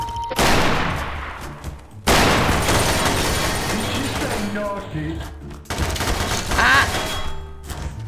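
Gunfire in Garry's Mod DarkRP, dense bursts of shots ringing out close and loud in waves across the stretch, with a brief shout among them.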